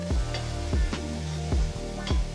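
A carrot and celery mix browning in broth in a pan, with a steady sizzle and bubbling running throughout, plus a few scraping stirs and clacks at regular intervals.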